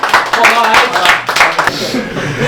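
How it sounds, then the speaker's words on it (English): Brief burst of clapping and applause from a small group celebrating a player's maiden goal at a local Australian football derby, mixed with speech and cheering voices. "round of applause for his maiden goal in football"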